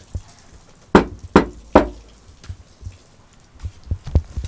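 Three loud, ringing knocks on a bare, uncovered sheet metal panel of a Ford 7.3 Powerstroke truck in quick succession, followed by a scatter of lighter taps and clunks nearby.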